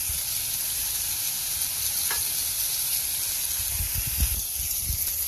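Burgers sizzle in olive oil on an outdoor Blackstone griddle, a steady loud frying hiss throughout with a brief scrape near the middle and low thumps of handling toward the end.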